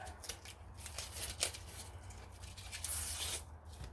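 A white onion's papery skin and thin membrane being peeled back by hand, quiet close crinkling and tearing rustles in irregular bursts, faint against a low steady background hum.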